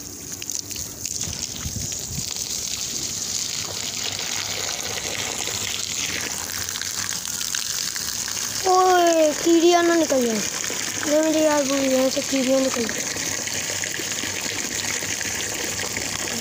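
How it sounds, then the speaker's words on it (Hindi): Water gushes steadily onto soil for plants in a park, a continuous pouring and trickling sound heard close by, with someone talking over it partway through. "पानी जाएगा अभी जाएगा तो पौधे उगेंगे।"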